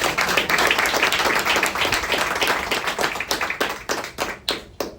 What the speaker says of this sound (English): I'd like to give a round of applause for them and their public service.